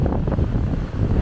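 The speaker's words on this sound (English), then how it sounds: "we're here at a very windy Trearddur Bay" Strong wind at Trearddur Bay buffets the microphone in a brief, loud, low roar, with heavy gusting rumble and no voices.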